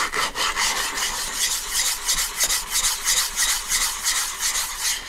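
A chisel plane's blade is honed on a 16,000-grit sharpening stone to polish a back bevel, giving steady, rhythmic close-up rasping strokes that run continuously with no talking.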